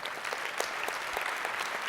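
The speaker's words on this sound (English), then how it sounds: "How about a big round of applause for Thad and Sheffield Metals?" Conference audience applause, a brief, fairly quiet burst of many hands clapping together, heard from a distance in a large hall.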